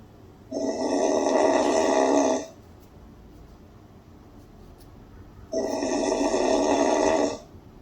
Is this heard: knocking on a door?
no